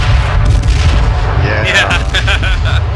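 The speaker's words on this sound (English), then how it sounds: "Just chuck a bunch of nades." Grenade explosions in the online shooter H1Z1, several dull booms layered over constant gunfire-like game noise and crackling bursts, loud and dense throughout.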